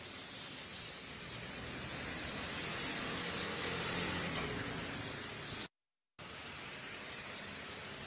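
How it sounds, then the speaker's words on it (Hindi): Light rain falls steadily in Noida, making an even, close hiss that stays constant apart from a brief cutout near the end, with no voices. "बीते काफी देर से बारिश हो रही थी, हालांकि बहुत तेज ये बारिश नहीं है"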